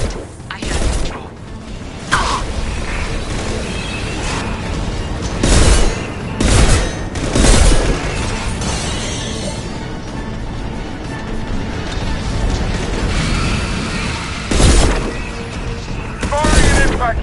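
Ship cannons fire high-impact shots in Mass Effect 2, sounding as repeated booming blasts and mechanical bursts spread across a dense, noisy battle, with voices speaking between them.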